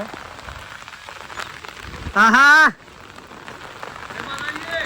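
Heavy rain pours steadily outdoors in a Gujarati village as a constant broadband hiss, interrupted midway by a brief loud tonal blare; a voice speaks faintly at one point.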